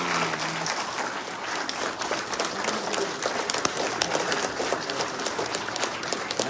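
Sustained applause from an audience at a drag racing hall of fame induction ceremony, many hands clapping in a dense, even patter with a few brief cheers, steady throughout.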